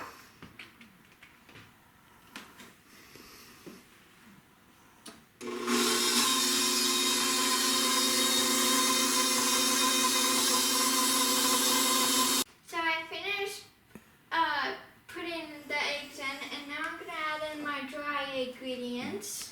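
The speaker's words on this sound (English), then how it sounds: "And then I'm gonna add in 2 eggs. And I'm gonna stir that up." Eggs being mixed into cookie dough with a loud, steady motorized whir that runs for about seven seconds, with a voice heard before and after.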